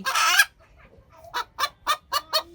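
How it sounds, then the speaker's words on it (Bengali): A hen squawks loudly once after laying an egg, then after a pause clucks in a quick series of five short, evenly spaced calls, close by with no talking. "ডিম পেরে দিয়েছে এই জন্য সে জানান দিচ্ছে কক কক কক কক করে"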